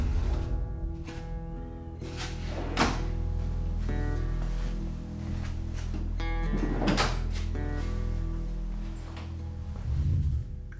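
Soft-close drawer slides on a newly built TV cabinet shut a drawer, giving two gentle, muffled thunks several seconds apart over steady background music.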